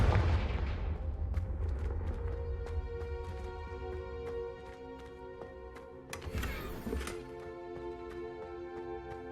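Confringo fire-blast spell in Hogwarts Legacy: a heavy booming blast at the start, then a magical ringing shimmer with tonal chimes and a second burst partway through, all without speech.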